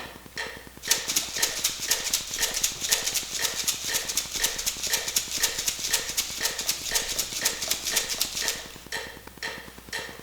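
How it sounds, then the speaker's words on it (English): A bright, steady shaker rhythm of quick, evenly spaced rattling strokes at a fast pace, close and crisp, continuing for several seconds. "I'm going to double the number of times that I make the shaker sound."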